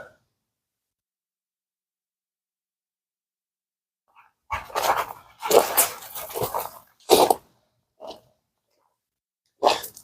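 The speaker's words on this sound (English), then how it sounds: "that's my dog" A dog barks in a garage or driveway, several loud close barks in a burst followed by a couple of single barks after a long silence.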